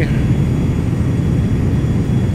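Aircraft engine drone in a light plane cockpit on an RNAV approach into Las Cruces, a loud, steady low rumble filling the space without pause.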